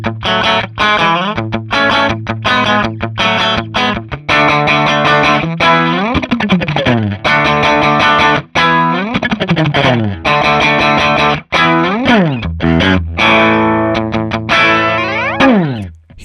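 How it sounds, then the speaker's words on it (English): Electric guitar with a very hot-output pickup, played on the inner coil of the bridge pickup alone through an AMT F1 preamp, rings out distorted, effect-laden riffs and sustained chords loudly and continuously, with no voices. "Now it's only the inner coil of the bridge pickup."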